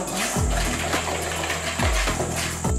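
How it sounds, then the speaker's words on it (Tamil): Water pours into a gram flour batter for dhokla, giving a steady splashing trickle with a few louder gushes, close and alone. "தண்ணி ஊற்றிக்கலாங்க"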